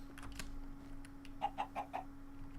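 Four quick clucks from a Minecraft chicken in the StoneBlock modpack, evenly spaced and fairly quiet, set against a constant low game hum.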